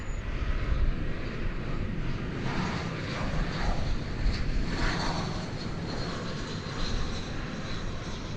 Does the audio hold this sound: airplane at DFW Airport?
yes